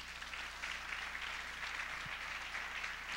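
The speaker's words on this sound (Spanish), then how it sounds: "Dale un fuerte aplauso a Dios." A congregation applauds during a Spanish-language church service, a steady, dense wash of clapping held at an even level throughout, with a faint low hum underneath.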